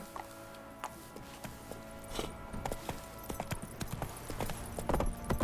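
Horse hooves clip-clop in a video game in an uneven walking rhythm, growing louder and quicker toward the end, over a faint background hum.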